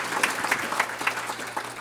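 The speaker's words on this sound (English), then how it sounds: "give those guys a round of applause for the great work that they do" Audience applause at a credit union's annual meeting, a short burst of scattered clapping with faint sharp peaks in a large room.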